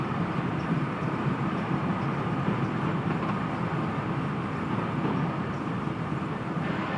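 A train in Train Simulator Classic runs along the Trent Valley line from Nuneaton to Stafford, giving a steady, continuous rumble of rolling wheels and engine with no breaks or voices.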